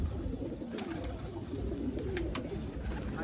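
Pigeons coo softly at a distance over a low outdoor rumble, with a few faint calls scattered through a few seconds.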